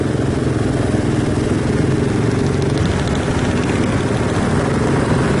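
A dense, loud rumble of several motorcycle engines in a group passing at night in Ponorogo, Indonesia, buzzing and droning continuously, close by with no speech.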